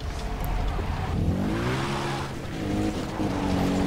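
Vehicle driving in Far Cry 3, a steady car engine rumbling with rising and falling pitch as it revs, tires squealing briefly, loud and continuous throughout.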